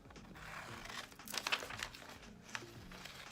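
Scissors cutting through a glossy magazine page for a self-portrait collage, giving faint close snips and paper crinkles in an irregular run, quiet and without talk.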